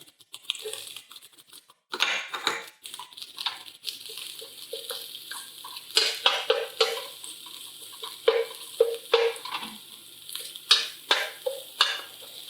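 Garlic and ginger frying in oil in a stir-fry pan, a bright crackling sizzle that jumps up after a short quiet start, then spits and pops in irregular bursts while being stirred.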